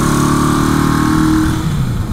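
A 1982 Kawasaki KZ750 LTD motorcycle engine with a possible exhaust leak drones loudly and close, holding a steady throbbing note before easing off slightly near the end.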